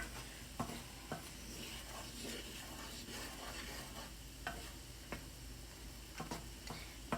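Cranberries cook in a pot while being stirred, giving a soft steady bubbling with scattered sharp little pops and clicks spread across the stretch, quiet and close.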